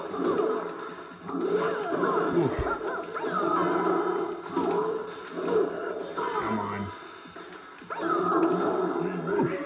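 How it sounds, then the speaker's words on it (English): Wolf in the Mortal Kombat Deadly Alliance fighting game, with wavering howl-like cries and yips rising and falling across several bursts, loud and mixed with fight noises and a voice talking. "Howls at the moon."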